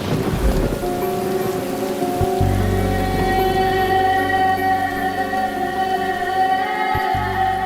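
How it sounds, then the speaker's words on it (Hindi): Heavy rain pours down in a forest setting, a dense, continuous hiss of falling water with low rumbling underneath and sustained tonal layers, no voices present. "एक तो बारिश भी बहुत ज्यादा है"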